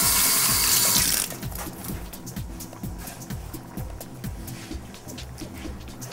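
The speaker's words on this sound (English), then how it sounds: "Let me just rinse my hands." Running tap water rushes loudly over hands at a sink for about a second, then cuts off, leaving faint clicking, rattling kitchen handling noises.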